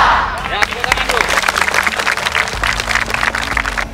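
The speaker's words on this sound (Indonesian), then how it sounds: "Ya, tepuk tangan dulu." A crowd at a school gathering applauds with dense, fairly loud clapping that runs throughout. A low hum sits beneath it, and voices are audible amid the clapping.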